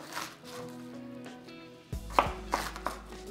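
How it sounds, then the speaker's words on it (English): A knife cuts through halved celtuce stems on a cutting board, giving three or four crisp, separate chops in the latter half, close and fairly clear over a quiet background with a faint tonal hum. "Chop off the leafy part of the celtuce. Cut in half, then cut into slices."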